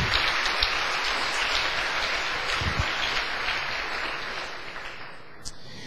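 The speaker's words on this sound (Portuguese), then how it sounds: "Uma salva de palmas para o Senhor Jesus" Church congregation applauding Jesus, a steady dense wash of clapping that carries evenly throughout and thins slightly toward the end.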